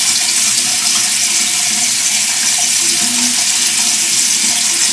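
Hot water runs steadily from a bathroom tap, a loud, continuous hissing rush with no pauses.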